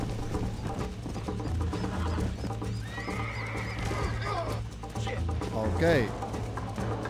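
Horse in Red Dead Redemption Remastered clip-clopping along with repeated hoof beats, then letting out loud whinnies and neighs near the end, with a low steady engine-like hum and someone talking briefly.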